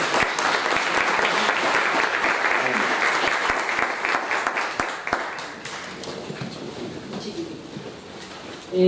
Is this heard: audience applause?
yes